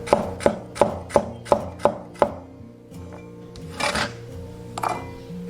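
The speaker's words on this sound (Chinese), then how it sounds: "准备2根葱白切小粒，1小块生姜切片" A knife chops scallion whites on a board in seven sharp, evenly spaced strikes, then softer slicing and scraping follows as ginger is cut into slices.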